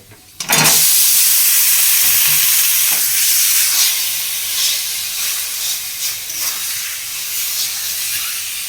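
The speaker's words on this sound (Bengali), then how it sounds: "এবার হালকা করে এটাকে কষিয়ে নেবো একটু।" Taro leaf curry with rohu fish head sautéing in a pan, opening with a sudden loud hiss as ingredients hit the hot oil, then a dense, steady steamy sizzle with light stirring, close up, no talking.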